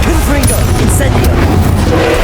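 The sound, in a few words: Confringo and Incendio spells cast in video game Hogwarts Legacy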